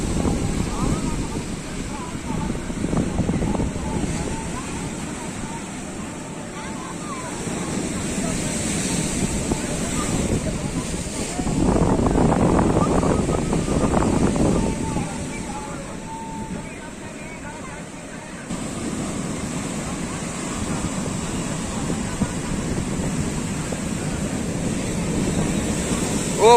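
Rough high-tide surf on the beach at Digha during the ekadashi spring tide, big waves pounding under gusting wind on the microphone, with a swell of louder crashing midway and voices talking over it.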